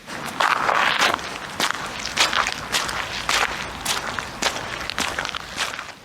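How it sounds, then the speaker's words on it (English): Heavy, deliberate footsteps squelch through wet earth outside a tent at a campsite, about a dozen slow, close, loud steps with wet crackling texture, heard alone. "I heard footsteps, heavy, deliberate, squelching in the wet earth"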